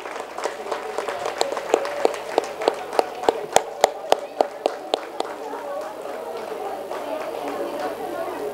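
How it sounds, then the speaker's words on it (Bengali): Audience clapping at a school prize distribution ceremony for a silver medal winner, a sustained burst of many hands with a few loud, crisp claps standing out, under a talking voice. "তার জন্য খুব খুব খুব জোরে একটা হাততালি"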